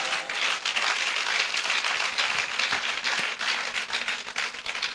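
Congregation applauding during a French-language Sunday church service, steady sustained clapping from many hands filling the room for several seconds, with no speech over it.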